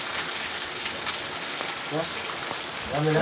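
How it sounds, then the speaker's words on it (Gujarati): Steady rain patters on a surface as a constant hiss, with a voice briefly breaking in near the end. "વરસાદ ભાઈ છે ને રહેવાનું નામ જ નથી લેતો, વરસાદ વધતો જ જાય છે"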